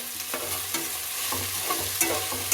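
Vegetable pulao frying in a pan with salt just added, stirred with a spoon: close scraping strokes every half second or so over a steady background sizzle, no voices.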